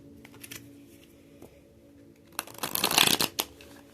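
A deck of raccoon oracle cards is shuffled, a few soft riffles early on and then a louder, denser burst of card flutter near the end, close up.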